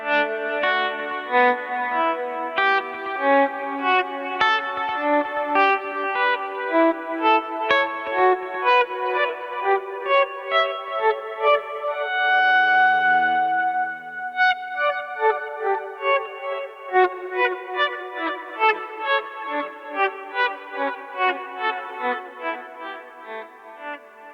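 Sustained guitar notes swell in smoothly via a volume pedal without a sharp attack, giving a bowed, violin-like tone with echoing effects, one after another over about twenty-four seconds.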